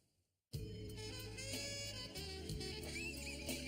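A horse whinnies loudly and continuously after a brief silence, a shrill, wavering neigh with a rough low rumble beneath it.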